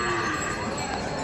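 A cow moos amid the steady crowd din of a busy cattle market in Dhule, the call partly buried in dense, continuous background noise.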